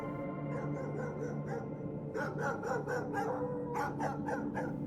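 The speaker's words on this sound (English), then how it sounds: "Hearing those wild dogs barking out there in the snow didn't mean that much at first" Wild dogs bark out in the snow, a steady run of sharp barks and yips over a dense, noisy background, moderately distant and fairly loud throughout.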